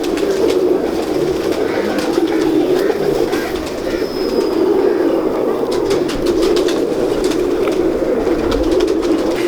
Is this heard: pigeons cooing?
yes